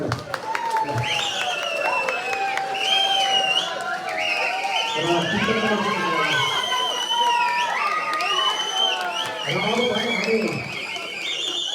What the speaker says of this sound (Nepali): सबैजनाले ताली बजाइदिनुहोस् है सबैजनालाई